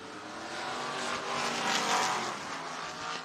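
Race cars roar around the dirt oval at Boone Speedway in Boone, Iowa, a swelling, fading drone of several engines passing at a distance with no talk over it.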